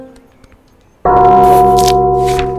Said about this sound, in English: There's a gong, apparently.